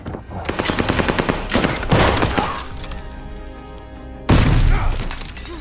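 Rapid automatic gunfire bursts loudly in the Call of Duty: Vanguard video game campaign. Overlapping shots rattle fast, then thin out, before a heavy blast lands near the end.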